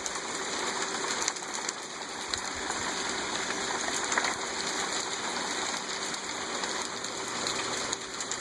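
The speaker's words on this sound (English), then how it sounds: "Our nice little hailstorm we're having today." Hail pelts down outdoors in a steady dense patter, with scattered sharper impacts standing out against a continuous hiss for several seconds, with no voices.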